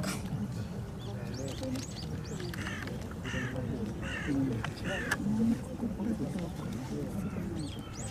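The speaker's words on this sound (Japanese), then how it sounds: "カラスだ。" Crows caw repeatedly outdoors at a castle-ruin park during a falconry display, the harsh calls coming from mid-distance over steady background murmur, with people talking quietly throughout.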